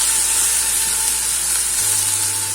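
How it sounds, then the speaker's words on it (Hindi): Tomatoes frying with methi bhaji in a hot pan, a steady loud sizzle and hiss that runs unbroken from start to finish, close by with no talking. "टमाटर डाल के हम भून देंगे मस्त।"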